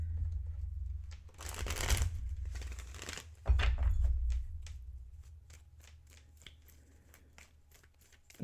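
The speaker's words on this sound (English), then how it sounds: "Let's shuffle a little bit." Tarot cards being shuffled by hand, two long riffling bursts followed by a run of quick soft taps and flicks, close and fairly quiet with no talk.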